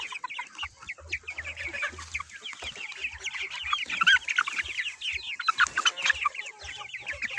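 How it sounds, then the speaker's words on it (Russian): Chickens and roosters of the Livenskaya marble breed, about two months old, kept in a home yard, clucking and chattering continuously. A dense, busy flock sounds close by with no talk. "Это петух большой."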